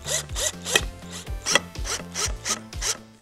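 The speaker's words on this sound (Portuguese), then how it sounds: "E faço apenas um leve furo aqui em cima" A tool bores a shallow hole into old, rustic wood while a rustic table is built, giving a series of rhythmic, close grinding strokes with a rasping scrape, about eight in three seconds, with no talk.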